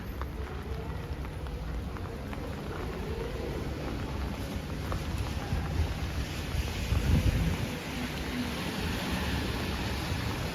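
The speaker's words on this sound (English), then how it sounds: "trying to hold my umbrella, but there's a little bit of wind." Gusty wind buffets the microphone on a New York City street in Astoria, Queens during extreme rain and flash flooding, a steady rough roar that swells briefly midway, with no clear talking.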